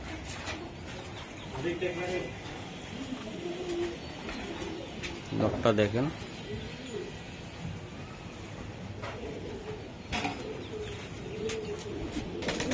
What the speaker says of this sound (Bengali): বাহ, 10টা রেস করা কবুতর।